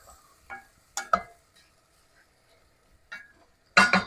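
A spoon scrapes and clinks against a pan while stirring pre-cooked green beans, several short faint knocks and scrapes separated by quiet gaps, ending with a louder clatter.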